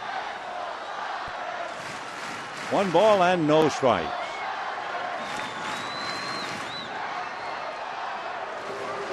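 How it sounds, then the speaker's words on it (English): Baseball stadium crowd noise from a San Diego at Los Angeles game, a steady roar of fans that swells briefly and stays loud beneath a play-by-play announcer talking throughout. "Crowd really coming alive following the home run"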